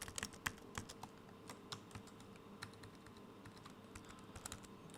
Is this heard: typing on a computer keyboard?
yes